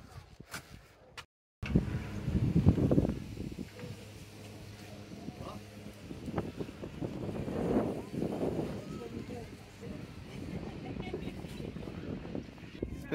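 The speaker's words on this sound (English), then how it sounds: "It's a bit windy, isn't it?" Gusty wind buffets a microphone outdoors at the top of an alpine-style cable car at Heights of Abraham, Matlock Bath, rising and falling in rough blasts, with voices speaking intermittently underneath.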